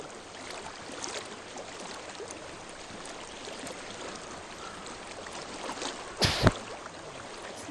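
Steady, soft rushing of a flowing stream in the Hellblade: Senua's Sacrifice video game, a continuous broadband wash with a brief louder splash or burst near the end, no talking.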